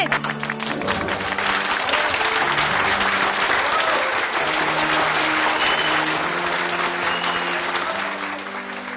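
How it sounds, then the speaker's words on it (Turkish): Loud studio-style applause and crowd clapping from a TV game show vote result, dense and sustained for the whole stretch with a few voices and music-like tones underneath, tapering slightly at the end. "Bu alkış sesleri nereden gelir anlamıyorum bir türlü."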